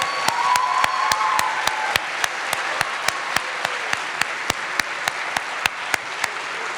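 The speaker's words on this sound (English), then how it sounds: "can we applaud all 5 of them one more time?" An audience applauds a group of storytellers with full, sustained applause. Sharp, evenly spaced clicks sound over the clapping throughout.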